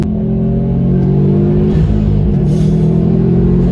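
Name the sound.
Subaru Impreza WRX STI accelerating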